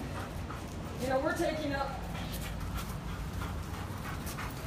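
A dog kept close beside its owner outside a store gives a brief rising whimper and soft panting, near but faint under steady outdoor background noise while someone talks.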